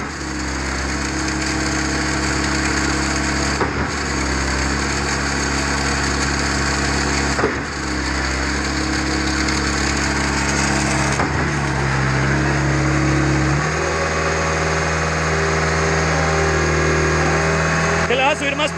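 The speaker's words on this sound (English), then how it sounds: "When you make a pump climb a mountain like this, nobody can complain that this thing doesn't run right." Schwing BPA500 concrete pump engine runs steadily and loudly throughout, a constant mechanical drone that shifts pitch slightly partway through, with brief dips in the load.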